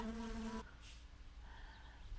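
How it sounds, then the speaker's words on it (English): Mosquitoes buzzing in the video game My Summer Car, a thin whining insect drone that starts loud and close with a harmonic hum, then drops to a fainter, wavering buzz. "Listen to those mosquitoes."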